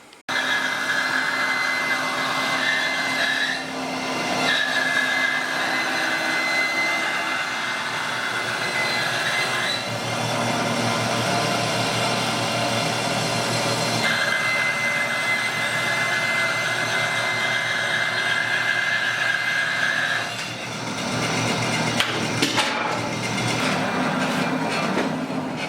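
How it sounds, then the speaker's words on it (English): Saw cutting a reclaimed board into a round tabletop as the board is spun around a center hole; steady, loud whining drone that runs nearly unbroken with slight pitch shifts and brief dips, no talk. "put the board on top, locate the hole, turn on the saw, spin the whole thing around"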